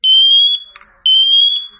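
A smoke alarm sounds two long, piercing, steady high-pitched beeps separated by a short gap, loud and close, with a faint voice in the gap between them.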